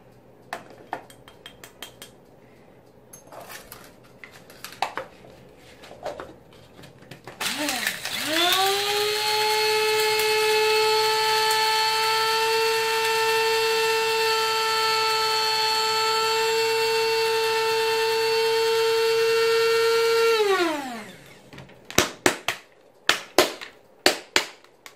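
An electric grinder whirs steadily for about thirteen seconds, milling cannabis into super fine flour. The loud, droning motor whine is bracketed by lighter clatter and handling clicks before and after.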